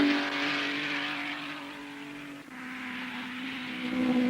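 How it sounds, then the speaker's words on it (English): A 1958 Formula 1 race car engine drones at Spa-Francorchamps, a sustained high-pitched whine in the distance that swells and dips as the car moves through Malmedy. "and Brooks holds on to a commanding lead, as Hawthorn in 2nd place motors through Malmedy."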